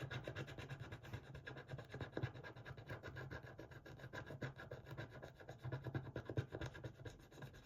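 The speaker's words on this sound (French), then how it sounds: "Allez, on gratte." A scratch card is scraped steadily with a coin, a continuous close rasping and rubbing with small rhythmic bursts running the whole time, no talking.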